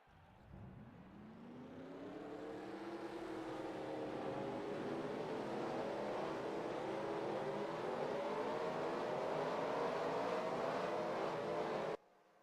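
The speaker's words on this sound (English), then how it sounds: "Drivers, start your engines!" Stock race car engines fire up together at the start of a 40-car South Carolina oval race, a low rumble that swells into a loud, layered, droning roar of many engines revving before it cuts off abruptly.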